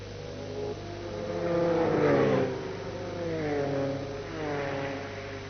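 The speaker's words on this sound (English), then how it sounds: "So 31 Sauber Mercedes of Karl Wendlinger out on the road." A Sauber Mercedes race car at Le Mans in 1991, its engine note rising and falling in smooth sweeps as it passes at moderate distance, with no one talking.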